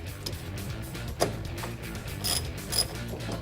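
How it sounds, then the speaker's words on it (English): Wrench snugging a positive battery terminal down onto a truck battery post, close ratcheting clicks and metallic creaks in short uneven bursts over a low steady background hum. "Now I'll put the positive battery terminal onto the battery post and snug it down with the wrench."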